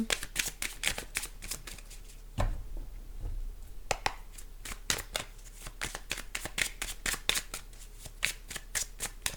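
Tarot cards are shuffled by hand for a reading in rapid, close riffling bursts of crisp card slaps, with a short pause partway through before the shuffling resumes, and no voice over it.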